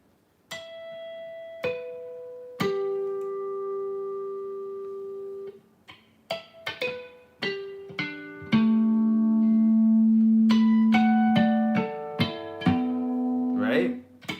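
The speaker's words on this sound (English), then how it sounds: "Harmonics are natural places on the neck where the note resonates in a special way" Guitar harmonics played as a series of plucked, bell-like chiming notes, each ringing out with long sustain and overlapping decays, some struck in quick clusters, close and clear with no talking.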